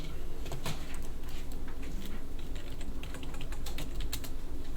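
Steady, close keyboard typing on a computer as a command is entered, a rapid run of light clicking keystrokes with no talking.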